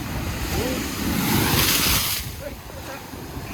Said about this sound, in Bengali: ঢেউগুলো আসছে দেখো বন্ধুরা পুরো উপরে তুলে দিচ্ছে